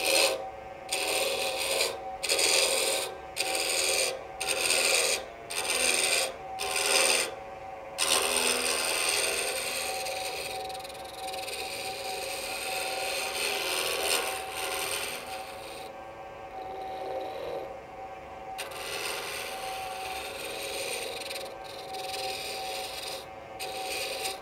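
A woodturning tool scrapes and rubs against timber spinning on a lathe, first in a run of regular rhythmic pulses, then as a steadier, rough continuous cut.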